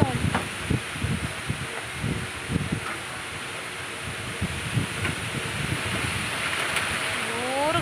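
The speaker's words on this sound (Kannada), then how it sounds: "ಜೋರು ಗಾಳಿ ಬರ್ಸ" Strong outdoor wind blows in a constant broadband rush, with faint rustling, while a voice is heard in the background.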